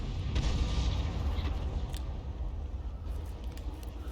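Artillery fire rumbles in a tank video game, with deep booms and a churning low roar, loudest early on before easing into a softer background rumble.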